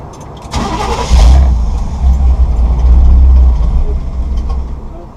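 A Chevy C/10 pickup truck engine cranks and tries to catch after a repair, a loud close churning starter whirr with a low rumbling engine that sputters without settling into a clean idle.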